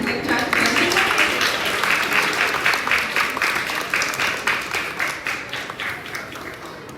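Audience claps steadily at an award ceremony as the gold-prize student team comes up to collect their award, a full, even applause that thins slightly and turns more distinct toward the end.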